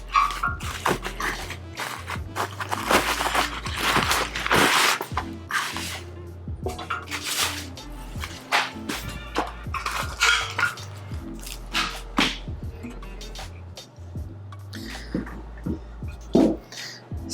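A heavy cast iron griddle from a Camp Chef Woodwind Pro smoker is handled, giving irregular metallic clanks, knocks and scrapes at close range over a low steady hum.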